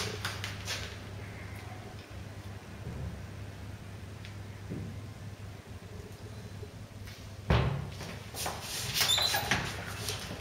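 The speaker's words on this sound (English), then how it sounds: "If you tighten these up, the door closes slower." A door fitted with an adjustable door closer swings shut slowly and lands with a soft thud, followed by light latch and handling noises over a faint room hum.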